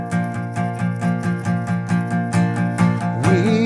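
Steady solid down strums on an acoustic guitar, played as a worship-song accompaniment, ring out in an even rhythm of about three strums per second. The chords sound close and full, with a slide near the end.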